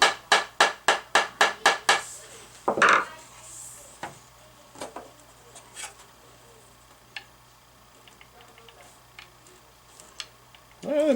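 A Strat-style guitar neck from a kit build is whacked in a quick burst of about eight sharp, close knocks, then single scattered taps with quiet gaps between them.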